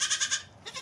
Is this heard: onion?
no